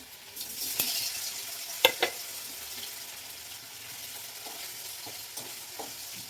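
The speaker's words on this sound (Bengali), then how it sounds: "পনিরটা ভেজে নিই তারপর আলুটা ভেজে নেবো" Paneer frying in a little oil, a soft crackling sizzle punctuated by a few sharp utensil clinks and scrapes, with quieter pops later on.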